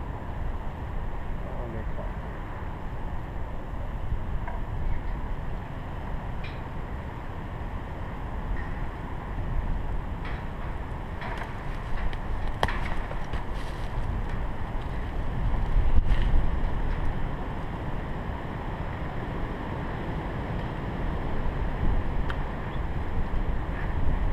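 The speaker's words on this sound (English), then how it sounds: "Sorry about the wind, if the wind is too" Steady wind buffeting the microphone outdoors while grafting apple trees, a continuous low roar with occasional gusts, and faint water or boat sounds in the background.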